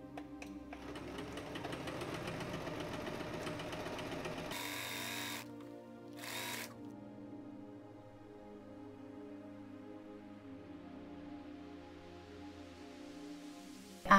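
A sewing machine stitches the back pieces of a Halloween witch costume together with a steady, moderately loud mechanical hum that stops partway, followed by a couple of brief bursts and then quieter motor drone.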